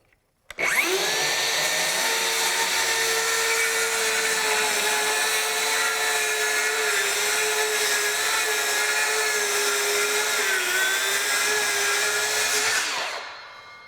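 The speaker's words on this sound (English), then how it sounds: "We're going to do a full depth of cut rip here, and we will start out with the FlexVolt with the 9 amp hour battery." A DeWalt FlexVolt 60V 7-1/4-inch circular saw (DCS578) on a 9 amp-hour battery rips full depth through knotty wood, whining loud and steady for about thirteen seconds after spin-up, then winding down, with no talk.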